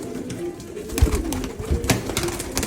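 Tumbler pigeons coo softly and repeatedly nearby, with rustling and scattered knocks and flutters around them.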